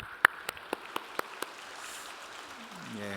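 A handful of separate hand claps ring out during a Sunday church service, welcoming a baby; the claps are spaced and sparse, fading quickly against a quiet room.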